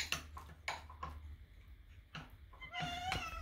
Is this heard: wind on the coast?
no